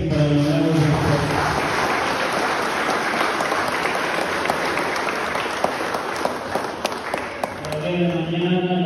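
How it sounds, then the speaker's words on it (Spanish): Applause for newlyweds at a church wedding ceremony in Yaaganiza: a sustained, fairly loud wash of clapping from the congregation lasting several seconds, with tonal sound, music or voice, just before and after. "Un aplauso para ustedes y para los nuevos esposos."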